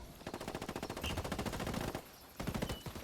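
Rapid automatic gunfire in Ghost Recon Ghost War, a fast rhythmic burst of shots fired down range, briefly pausing before another short burst, heard at a fairly low level.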